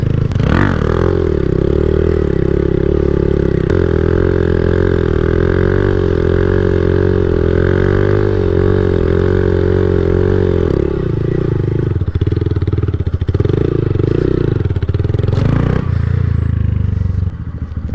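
A Honda Grom motorcycle engine runs loud and close for the whole stretch, holding a steady idle with pulsing revs that rise and fall, then a few sharper throttle blips near the end, with no talking.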